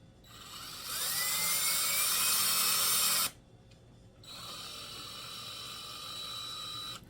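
A power drill bores into a camera rig support with a high whining whir, two sustained runs of a few seconds each separated by a brief pause, close and loud.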